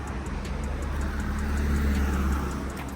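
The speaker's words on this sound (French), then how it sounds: "Du coup, on reprend la route." Car rolling along the road, a steady low engine and tyre rumble heard from inside, swelling slightly mid-clip, with no talking.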